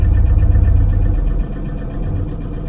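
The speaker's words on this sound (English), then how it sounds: "As you were seeing, the car started right away." A Toyota Land Cruiser 120 with the 1KD-FTV diesel engine running, a loud low rumble up close that drops to a softer, steady idle partway through.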